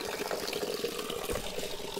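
Spring water gushes straight out of mountain rock beneath a lifted stone slab at a temple, a steady close splashing rush with no pauses.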